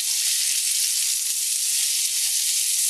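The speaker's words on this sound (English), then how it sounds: "I'm gonna let that cook on one side for about 2 minutes and then flip it over" Chicken cutlets frying in a pan for chicken piccata, a steady bright sizzle that stays loud and even throughout.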